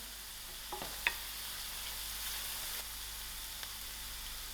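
Soft onions fry with cinnamon in a pot, a faint, steady hiss running throughout with a couple of brief clinks of a spoon against the pot, quiet and close with no voices.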